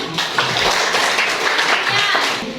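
Classroom students clap their hands together in a dense, steady wash of applause that fills the whole moment, with voices mixed in underneath.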